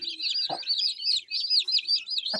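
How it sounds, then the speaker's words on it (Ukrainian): Chicks peep busily and without pause while a broody hen that hatched them gives a couple of low clucks underneath. The sounds are close and there is no talking. "зняли мамочку, яка висиділа кілька курчат"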